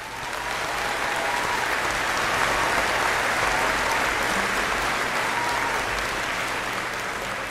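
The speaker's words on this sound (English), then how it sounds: "help me applaud these accomplishments" Dense, sustained applause from a large audience at a bachelor's degree graduation ceremony, a steady wash of clapping that swells and holds loud for the whole span with no talk over it.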